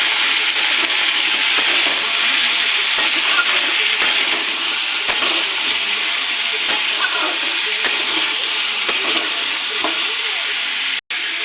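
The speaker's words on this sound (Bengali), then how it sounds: "এবার দিয়ে দেবো কুমড়ো, ডুমো ডুমো করে কেটে রেখেছি কুমড়ো।" Cubed pumpkin and fried potatoes in a pan for a pumpkin and chickpea curry give a loud, continuous close sizzle broken by scattered stirring scrapes, with a brief dropout near the end.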